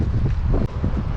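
Heavy wind buffets the microphone along the Gold Coast shoreline while fishing, a loud, continuous low rumble with gusting surges and no speech.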